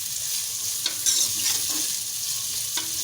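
Onions fry in a pan with a continuous, bright hissing sizzle up close, punctuated by a few soft stirring knocks and scrapes.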